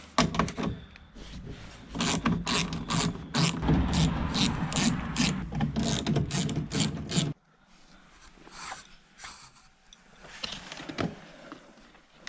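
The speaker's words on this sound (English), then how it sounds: "Now I need to unscrew the battery and remove the airbag." A ratchet works the battery bolts in a BMW E46 Touring, giving rapid clicking bursts in close, loud runs, then quieter scattered clicks and handling noises near the end.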